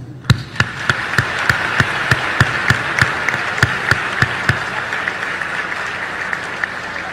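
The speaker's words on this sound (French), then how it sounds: "À vous donc ce concert d'applaudissements." Applause from a graduation ceremony audience, a steady wash of many hands clapping with sharp, evenly spaced louder claps standing out near the front, fairly loud and continuous throughout.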